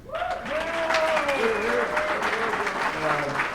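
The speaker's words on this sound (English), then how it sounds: "Let's give a round of applause for the chairman, Joe McGuire." An audience applauds the chairman at a political event, steady, full applause running throughout while a voice speaks over it.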